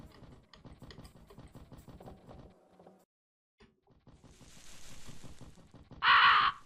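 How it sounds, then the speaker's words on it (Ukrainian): Crows from the video game Fear & Hunger give a short loud caw near the end, after a stretch of quiet clicking ambience and a rising noisy swell. "Ой, ворони."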